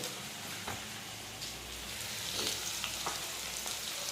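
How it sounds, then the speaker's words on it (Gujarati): Mixed vegetables with a little chopped cabbage frying in oil in a home kitchen, a steady soft sizzle with a few light stirring clicks, fairly quiet and with no talk. "એટલે આપણે બસ તેલમાં જ એને શેકવા દઈશું થોડી વાર"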